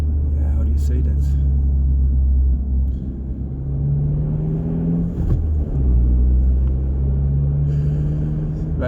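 A Suzuki Swift Sport Hybrid hot hatch with a K14D engine, ZC33S generation, drives along with a steady low engine rumble and road drone that rises and dips slightly, and a voice talks over it throughout.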